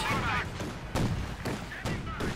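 Anti-tank and tank cannon fire from a Pak 40 and Panzer IVs against a T-35 in Company of Heroes 2, heard as several heavy booming shots spaced about a second apart, loud and close in the mix.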